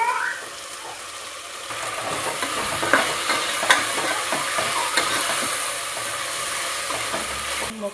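Tomato bath powder frying and being stirred in a pan, a steady soft sizzle with scraping stir strokes and occasional light clinks, fairly close and without talk.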